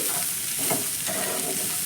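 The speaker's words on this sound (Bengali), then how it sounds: "এক দু মিনিট মতো আমি কিন্তু এখানে ভেজে নিয়েছি" Sweet corn fries and is stirred in a pan, a steady close sizzle with light scraping of the spoon throughout.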